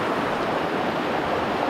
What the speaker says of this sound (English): the water's freezing, and we're doing a creek crossing.